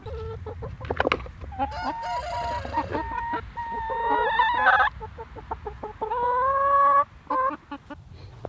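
Meat chickens cluck and squawk close by on a homestead, a busy flurry of overlapping calls with a rooster-like crowing note mixed in.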